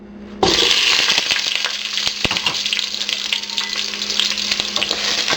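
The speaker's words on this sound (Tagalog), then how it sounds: "Once na mainit na yung cooking oil, ilalagay na natin dito yung onion." Onion dropped into hot cooking oil in a pot for miso milkfish sinigang sets off a sudden loud sizzle that keeps frying steadily, with scattered crackles and stirring clinks, no talking.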